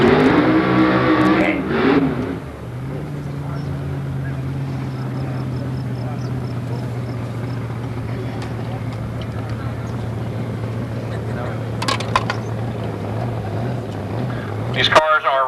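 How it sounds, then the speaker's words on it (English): Supercharged methanol-fuelled race cars circle the track at Scribner in 1991, making a steady, droning engine roar that holds for long stretches, with murmuring voices and a few sharp crackles in the background. "These cars are running supercharged on alcohol."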